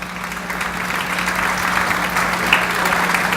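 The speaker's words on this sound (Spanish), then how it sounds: "Lo despediríamos con un fuerte aplauso" Audience at an educational innovation conference bursts into steady, sustained applause, a dense, even wash of many hands clapping that holds at full strength throughout, with a faint steady hum beneath.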